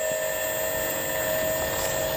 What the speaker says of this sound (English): The squirrel, it's taken off in the plane.